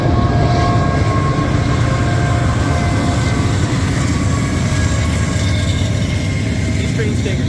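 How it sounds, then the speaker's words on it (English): A Union Pacific freight train rolls past nearby with a continuous heavy rumble of wheels and wagons, with faint squeals rising over the steady noise. "These trains take a couple minutes to pass through."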